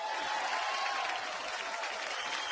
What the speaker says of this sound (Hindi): एक बार अनिल कपूर साहब के लिए जोरदार तालियां।